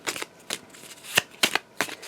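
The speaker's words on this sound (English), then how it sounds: "Just giving him a quick shuffle." A deck of game cards is shuffled by hand in several quick riffles and flicks, close and crisp, with short pauses between bursts and no talking.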